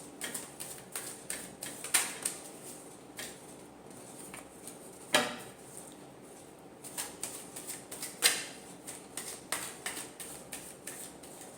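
Tarot cards are shuffled in a quick, uneven run of soft riffling clicks and flutters. The sound is close and fairly quiet, with no voices.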